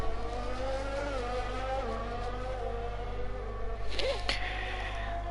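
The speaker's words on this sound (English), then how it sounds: "I think there's a bit of a train of cars forming in the final sector here." Race cars in the GRL Season 2 Round 10 rallycross event in the United States run in a close line through a track's final sector, a steady engine drone with harmonics shifting and a brief sharper burst near the end.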